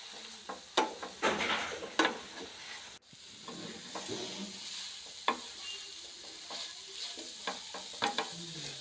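A spoon stirs thick carrot barfi mixture in a pan, giving repeated scraping and soft sizzling strokes with a faint hiss, close and moderately loud, with no talk.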